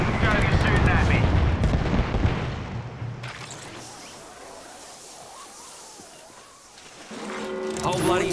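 Gunfire bursts in Apex Legends on Kings Canyon, heavy and close at first, then fading into softer distant shots and mechanical game effects, with a voice speaking over it.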